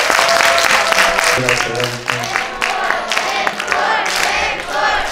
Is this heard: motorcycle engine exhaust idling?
no